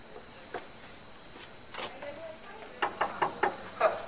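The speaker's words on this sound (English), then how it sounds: "Someone's at the door." Knocking on a door during an improvised party scene on a comedy stage, a short series of about five sharp raps, fairly close and clear, with no talking over them.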